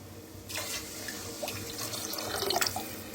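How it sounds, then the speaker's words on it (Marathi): Water poured into a pan of roasted moong dal while cooking, a steady splashing stream starting abruptly and running continuously, close and moderately loud with no talk. "आता ओतूया पाणी"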